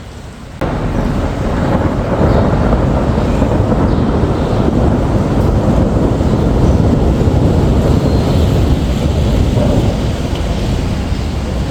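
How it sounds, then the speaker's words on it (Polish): Heavy thunder rumbles loud and low in Alanya, a deep continuous roll that swells and lingers over steady wind and rain noise, with no voices. "Grzmi dosyć mocno i pewnie niedługo zacznie padać."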